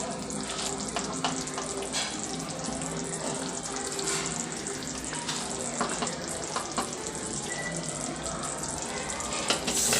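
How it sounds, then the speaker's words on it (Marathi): A pan of cashew curry gravy boils steadily, giving a continuous close bubbling and sizzling hiss that holds at an even level for the whole stretch, with no talk. "इथं बघा आपली काजू करीची ग्रेव्ही छान अशी शिजलेली आहे, उकळी आली छानपैकी त्याला"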